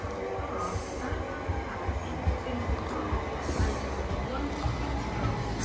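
A train rushing through Welwyn North station on a fast line, a steady broad roar of wheels and carriages sustained throughout, with faint voices nearby.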